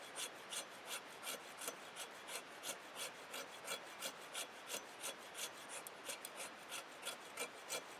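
A Cold Steel Bolo machete shaves down fatwood in steady, repeated rasping strokes, faint and close, with no voices.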